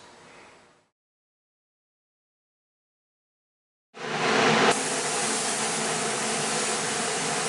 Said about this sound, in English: We just sprayed silver through the mesh.